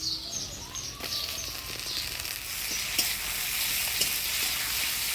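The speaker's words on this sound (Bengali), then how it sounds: "পেঁয়াজটা হালকা লাল লাল করে ভেজে নিলাম এবার দিয়ে দেবো টমেটো কুচি" Chopped onion and tomato fry in a pan, a continuous bright sizzle with scattered stirring scrapes, close and fairly loud, while faint bird chirps sound in the background.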